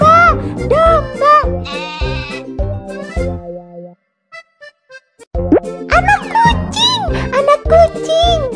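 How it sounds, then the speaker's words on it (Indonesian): Cartoon sheep in a BabyBus children's farm-animal game bleat in a lively run of loud, wavering cries mixed with bouncy game sounds, breaking off for a quiet pause with a few soft blips before more bleats return. "Domba."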